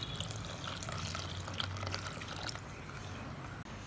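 Half a litre of thick milk is poured into a pot of palm fruit payasam, a soft, continuous liquid pouring splash that tapers off near the end.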